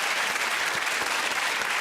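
Studio audience applause for Fabio on a comedy game show, a dense, steady burst of clapping from a crowd, fairly near and continuous for under two seconds with no talking.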